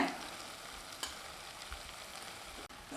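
Cooked tomato rice stirred and mixed in a pan, soft scraping and a low sizzle close by for a few seconds, with one brief knock of the spoon, no voices.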